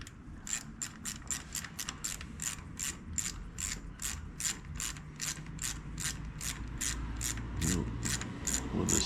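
Rapid, steady clicking of a ratchet wrench tightening gasket bolts on a 2008 Harley-Davidson Sportster 883, about two dozen close, even clicks over a low mechanical rumble with no talk.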